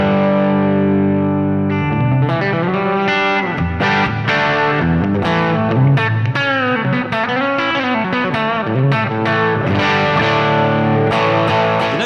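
A distorted electric guitar plays a continuous riff through a Quilter MicroPro Mach 2 amplifier, with thick overdriven chords and sustained notes, loud and steady throughout.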